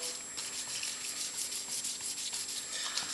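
Soft, even rubbing strokes of a flexible sanding block moving back and forth over a lathe part, quiet and close, with no voices.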